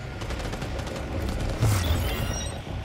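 Gunfire in Cyberpunk 2077: Phantom Liberty, a dense rattle of shots over a rumbling game background, swelling into a heavier boom near the end.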